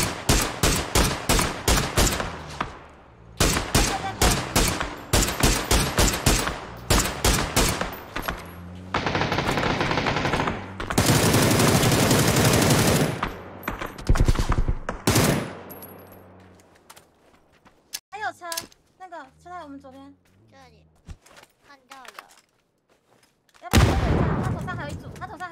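Dense, rapid machine-gun bursts and heavy gunfire from a video game shooter rattle loudly and close. Sustained roaring blasts follow, then scattered shots, with players talking between the volleys.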